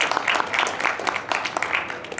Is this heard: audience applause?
yes